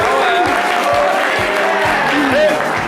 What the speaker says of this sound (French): Les amis, applaudissez pour vous-même.